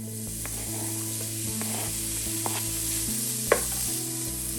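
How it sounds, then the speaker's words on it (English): Bacon sizzles and crackles in a heated pan for a crockpot loaded potato soup, a steady hiss with occasional pops and stirring scrapes, close and moderately loud with no talking. "The pan is heating up here. What I'm gonna do is add in the bacon."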